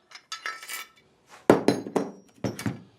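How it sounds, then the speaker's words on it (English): A bolt is passed through a spindle and a D 100 plate is screwed on, giving a quick series of sharp metallic clinks and taps in two close clusters, with no talk. "Take bolt and go through the spindle and screw the plate on."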